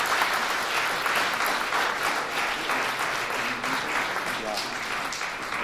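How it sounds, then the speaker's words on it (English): Warm applause from the guests at a reception marking 40 years of the Atlanta sister-city relationship, steady dense clapping filling the room for several seconds with faint voices mixed in. "So please join me in giving them a warm round of applause."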